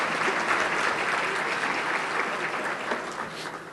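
An audience at a project delivery summit applauds in a steady, even wash of many hands that stays at the same level throughout.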